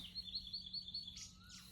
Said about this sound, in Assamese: এতিয়া পূৰা চৰাই চিৰিকটিবোৰে মাতি আছে